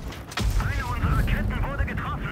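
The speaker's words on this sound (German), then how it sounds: "Da ist noch einer, der auf mich schießt." In WoT Blitz, an enemy tank fires on a Kampfpanzer 50. A single sudden cannon boom is followed by rumbling battle noise while a voice talks over it.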